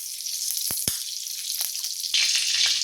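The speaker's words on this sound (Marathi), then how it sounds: "जिरा राईस बनवण्याकरता मी कढई चांगली गरम करून घेतली आहे. त्यामध्ये मी आता 1 चमचा तूप घालतीये" A spoonful of ghee hits a well-heated kadai for jeera rice and sizzles in a steady, close hiss, with a few sharp ticks and a louder surge near the end.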